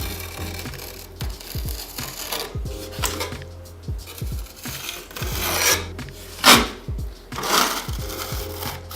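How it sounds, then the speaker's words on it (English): A large trowel scraping and spreading filler flat across a wooden beam, rough rasping strokes repeating close up and alone, swelling into a few louder sweeps toward the end. "I'll scrape off the rest of it and I'm going to transition to the bigger trowel, lay it all the way across"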